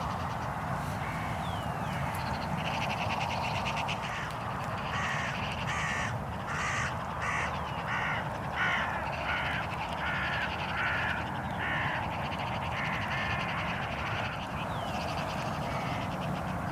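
Hooded crows caw in a noisy, agitated chorus after a rifle shot in Northern Ireland, with repeated harsh calls from several birds at middle distance over steady rural background noise.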